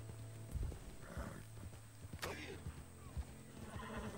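A horse whinnies in a western video game, a short neigh amid hoof clip-clops and other game sounds, with someone talking quietly underneath.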